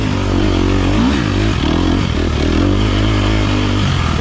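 A dirt bike motorcycle labors up a steep hill during a gnarly hard enduro race, its engine droning loud and close with steady revving and shifting pitch, mixed with clattering and scraping the whole way through.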